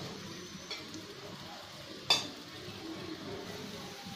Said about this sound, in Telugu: ఇప్పుడు వేగుతున్నాయి, మళ్ళీ తిరిగేసుకుందాం. ఎర్రగా వేయించుకోవాలి కదా.